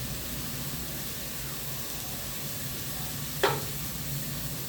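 Turmeric sizzling in hot oil while cooking pappu charu: a steady, fairly soft frying hiss throughout, with one brief louder crackle as the spice hits the pan, no voices over it.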